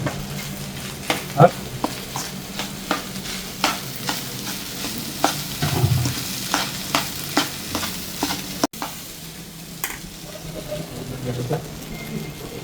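Food sizzles in a pan while a utensil knocks and scrapes against it in a steady rhythm of stirring clacks, close and fairly loud.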